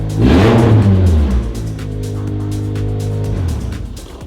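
A custom-modified car's engine revs hard up front, then settles into a steady, throaty rumble that holds before easing off near the end.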